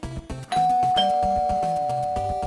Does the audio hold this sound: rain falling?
no